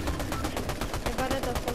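Video game gunfire from a shooter match rattles in rapid, evenly spaced bursts like automatic weapon fire, loud and close, continuing without pause through the short stretch, with faint voice chat mixed underneath.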